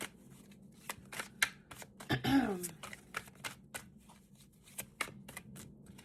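A large oracle card deck being shuffled by hand, a series of crisp riffling flutters and card slaps in quick bursts, close and moderately quiet, with a brief throat sound partway through.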